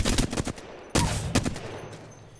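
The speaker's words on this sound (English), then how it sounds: "This is shooting from the hip." Hip-fire gunfire from a weapon in the Apex Legends video game: two loud clusters of rapid shots, one at the start and another about a second later, fading into a ringing tail.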